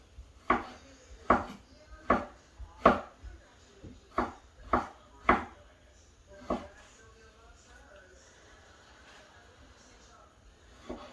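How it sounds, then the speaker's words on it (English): A knife dices ingredients for fish tacos on a wooden cutting board, giving eight sharp, evenly spaced chops followed by a final stroke and quieter handling, with someone talking over them. "Then just go in nice crossing motion and get them diced up."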